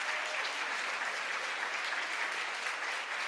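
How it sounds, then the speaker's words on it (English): A large audience at an arts-day gathering applauds steadily, a dense even roar of many hands clapping that holds at full strength throughout without any clear talk. "please rise and give them a round of applause."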